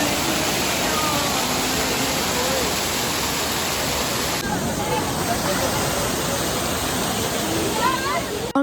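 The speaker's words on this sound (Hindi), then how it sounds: "जो पानी की आवाज़ है वो आपको आगे की क्लिप में सुनाई देगी" A loud waterfall along the Kedarnath trek roars continuously and close, a dense rushing wash of water that fills the whole clip, with faint background voices mixed underneath.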